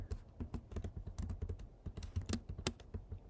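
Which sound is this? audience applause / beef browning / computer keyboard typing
computer keyboard typing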